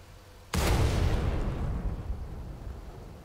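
Tank main gun firing a shell during a video game armor test: a single sudden loud boom that rolls out into a long, fading rumble over roughly three seconds, with no voices.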